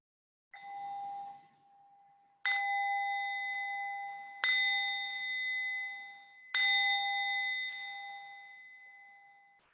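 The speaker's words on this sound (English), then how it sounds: "as you hear the sound of the bell, allow that sound to pull you inward" A meditation bell is struck four times, each a bright ringing tone that decays slowly. The strikes are roughly two seconds apart, loud and clear in an otherwise silent room.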